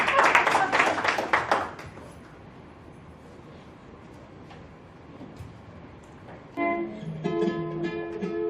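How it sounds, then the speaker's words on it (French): An audience at a fashion show claps hands in a brief burst of applause at the start, which fades into room noise before music comes in. "please clap your hands."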